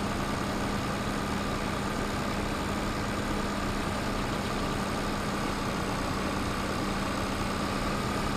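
A tractor engine idles steadily in a farming simulator game, a continuous low rumbling drone with a constant hum and no variation.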